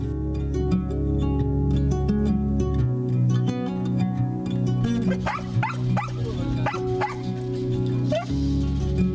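Several dogs bark and yip at a municipal dog shelter and rehabilitation center, the barks coming in quick overlapping bursts at mid-distance over a steady bed of background music.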